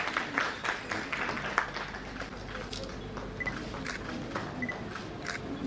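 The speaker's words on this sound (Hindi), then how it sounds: "दीप प्रज्वलन के कार्यक्रम तालियों से इस क्षण का स्वागत कीजिए" Audience applause at a lamp-lighting ceremony for a Buddha Jayanti event at Magadha Mahila College, Patna: a steady wash of clapping, fairly loud and continuous throughout, with scattered brighter claps standing out.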